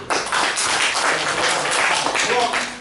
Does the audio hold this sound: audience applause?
yes